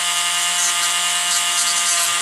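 Power sanding with coarse 80 grit sandpaper, a loud continuous high whine with a gritty hiss, steady and close throughout.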